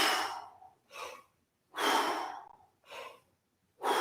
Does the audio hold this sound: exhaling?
yes